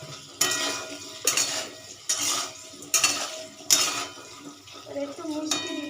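A spatula scraping and clanking against a pan as turmeric is stirred into frying banana-stem vegetables, about five rhythmic metallic strokes over a soft sizzle, close, with faint voice in the background.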